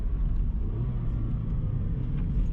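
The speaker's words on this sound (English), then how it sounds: "His car is rowdy compared to mine." Loud drift car engine rumbling close by at a spin drift day, with a deep, steady low-end roar and slight surges as the car works the throttle, no talking over it.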